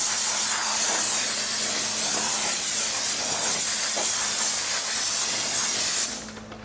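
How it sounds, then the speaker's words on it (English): Brake cleaner sprays in a steady, loud aerosol hiss onto the brake of a Toyota Tacoma, running continuously for about six seconds before cutting off abruptly. "I will use that brake clean to clean it. I have my can underneath it, and here you go."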